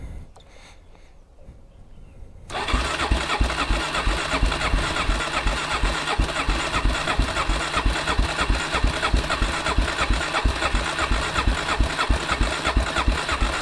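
An ATV or dirt bike engine fitted with a new spark plug and fresh gas cranks for a couple of seconds after a quiet start, then catches and runs steadily at a loud, rough, pulsing idle with no talk.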